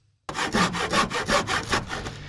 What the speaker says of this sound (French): je vais y mettre un coup de scie correctement